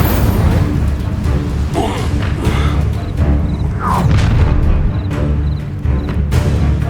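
In Hogwarts Legacy, an Incendio fire spell goes off amid a busy battle, with booming blasts, whooshes and crashes piled densely over loud game noise.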